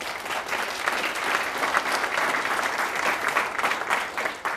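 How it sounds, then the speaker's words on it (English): Audience applause for the township board at a state of the township address, a sustained wash of clapping from a room full of people, steady and fairly loud with no talk over it. "This board deserves a great round of applause for this."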